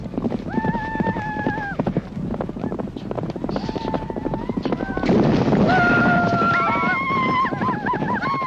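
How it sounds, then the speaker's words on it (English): Horses in a Mongolian horse race ridden by children, with rapid hoofbeats, repeated whinnies and wind buffeting the microphone, joined by sustained singing voices and background crowd sounds. "Mongolian horse racing is certainly exciting."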